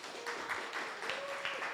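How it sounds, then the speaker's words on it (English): A crowd applauds at a talk event, soft and somewhat distant, with a brief murmur of voice mixed into the clapping. "Can we give her a round of applause?"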